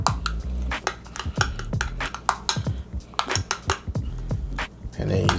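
A spoon stirs Creole seasoning around in a metal pot, giving a run of quick, close clinks and scrapes in an uneven rhythm.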